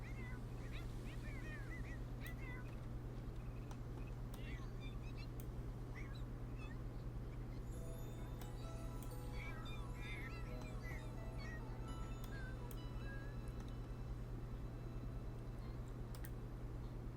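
Kittens in The Sims 4 giving several faint, high meows scattered over a constant low hum, with soft keyboard clicks in the background.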